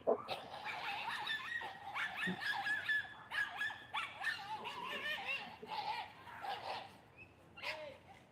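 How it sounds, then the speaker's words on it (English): Dogs in a residential Toronto neighbourhood barking, yipping and whining continuously at moderate distance, a busy overlapping chorus with birds faintly in the background. "I say as the dogs scream."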